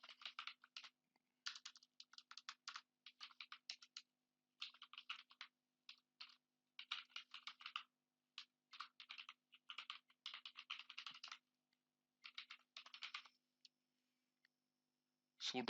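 Someone types a command on a computer keyboard in irregular bursts of quick, close, crisp key clicks separated by short pauses.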